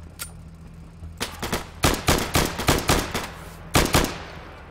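Gunfire from the video game Insurgency rings out in rapid, uneven bursts of sharp shots, several close together, then a pause and a final pair of cracks.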